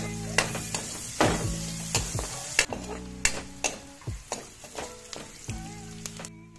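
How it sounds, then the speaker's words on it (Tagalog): Garlic and onion sautéing in margarine in a pan for creamy chicken with mushrooms, with a soft sizzle under a run of sharp, regular spatula scrapes and taps against the pan, close and clear, with no talking. "Sunod, igisa ang bawang hanggang sa bumango ito. Igisa rin ang sibuyas."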